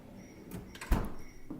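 A Sub-Zero refrigerator drawer in a kitchen slides with a soft rolling rumble and ends in a dull thump midway, faint and alone against quiet room noise.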